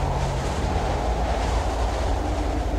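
Strong wind roars steadily across a mountainside in the video game Kholat, a loud, even, low rushing that fills the whole stretch with no speech.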